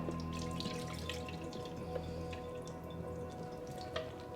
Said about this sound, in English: I'm going to tip most of this off and get rid of almost all of this water